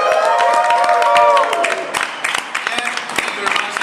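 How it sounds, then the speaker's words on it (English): A live audience bursts into loud applause and cheering, with whoops and shouts over dense clapping that builds and then thins into scattered claps and voices. "you have to do the great applause, the huge one, big and screamy as you can."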